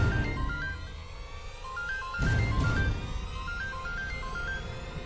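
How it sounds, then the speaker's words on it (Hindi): A phone ringtone plays a repeating electronic melody of short stepped notes, moderately clear over a background of music or ambience, with a brief louder whoosh midway. "फोन की आवाज"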